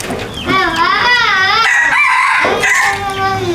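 Rooster crowing loudly and close by in a rural Thai home setting, one long drawn-out cock-a-doodle-doo with wavering pitch, clear and dominant.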